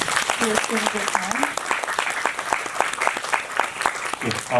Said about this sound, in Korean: 앞에 계신 두 분 감독님께 큰 박수 부탁드립니다.